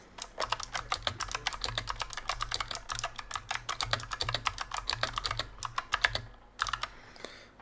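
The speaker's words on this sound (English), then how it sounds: "So I'm just gonna type a short text here so you can hear the keys." Rapid clattering keystrokes on a Razer Huntsman Mini 60% mechanical keyboard, a steady run of close, crisp clicks with brief pauses near the end.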